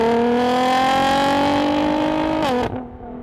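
Tuned rear-wheel-drive Nissan GT-R R35 with about 700 horsepower revving loudly nearby, a steady high engine note that climbs slightly, then drops abruptly as the throttle is released, leaving a lower idle.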